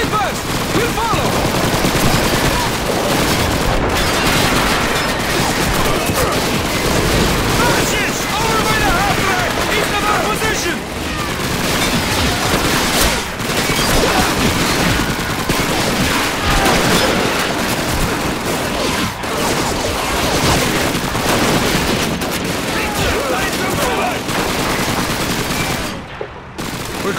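Call of Duty 2 battle in a Red Army training mission: loud, dense bursts of submachine-gun and rifle fire with booms, continuous and close for the whole stretch.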